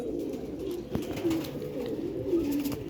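Soft, repeated pigeon cooing close by, low throaty coos rolling on and off over a steady background hum.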